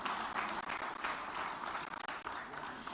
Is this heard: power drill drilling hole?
no